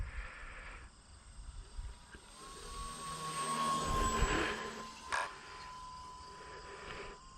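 An E-Flite Apprentice STS 1.5m RC model airplane flies overhead at an airfield, its thin electric motor whine droning faint and distant, swelling slightly as it passes.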